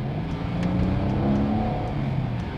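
A Maserati Ghibli sedan's V6 engine revving under hard acceleration in normal drive mode, a steady close engine roar with rising tonal harmonics, heard alone without talk.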